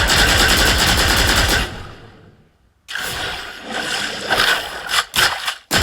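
Rapid automatic gunfire from a shooting animation in the mobile game Valorant Mobile, a dense burst of loud shots that stops into near-silence, then returns as further firing with sharp louder cracks near the end.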